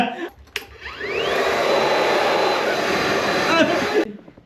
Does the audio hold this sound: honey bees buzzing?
no